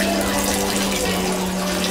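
Water runs steadily in a shower, a constant close hiss with a faint low hum underneath and no voices.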